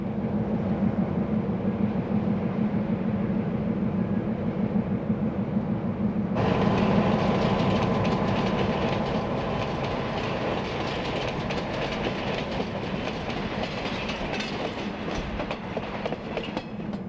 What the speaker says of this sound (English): a New York Central switcher and 3 freight cars cross the C&O tracks